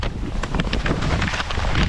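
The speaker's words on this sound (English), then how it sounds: "it's so windy today" Wind buffets a microphone outdoors on a very windy day, a loud continuous low rumble with gusting swells for about two seconds and no other clear sound.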